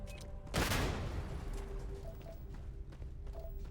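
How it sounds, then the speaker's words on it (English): Gunfire in the sci-fi video game Starfield: one sharp, loud shot or burst early on, followed by quieter scattered thumps and a low steady game ambience. "I hear gunfire."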